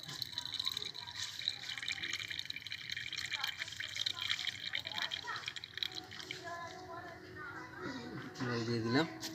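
Water is poured out in a steady, faint trickle that lasts throughout, with a brighter filling gurgle near the end. Voices talk in the background over the flow.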